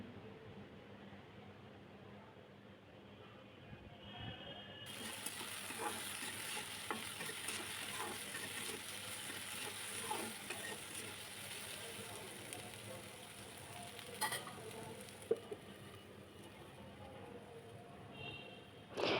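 Okra sizzling and frying in a pan with a steady hiss, occasional scraping of a spatula stirring, fairly quiet and close.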